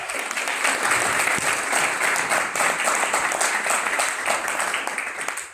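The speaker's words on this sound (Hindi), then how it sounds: "तो चाहूंगा एक बार जोरदार तालियां, जोरदार।" Loud, sustained applause from a large crowd, steady clapping throughout that fades slightly at the very end.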